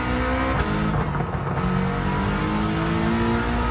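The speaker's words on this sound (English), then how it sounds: "Now this is the part where that little engine is going to struggle the most." Small Subaru engine revving hard in Gran Turismo 7, a loud continuous engine drone with shifting harmonic tones as revs climb and dip, heard close and alone.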